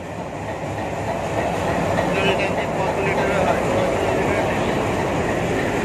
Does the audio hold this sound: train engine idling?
yes